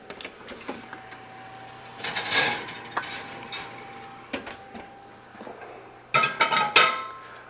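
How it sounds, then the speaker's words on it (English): Scattered metallic clanks and scrapes as a pot is taken out and a sourdough loaf is put in, with louder clattering bursts near the middle and again at the end, no talking. "Let's take our pot out and go ahead and put it in."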